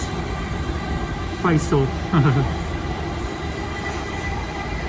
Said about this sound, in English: I think we're in a race with the train next door